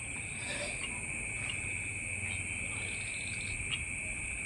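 Insects or frogs at a small pond at night form a constant high-pitched shrill drone, with faint intermittent chirps and croaks scattered through a steady, noisy outdoor background.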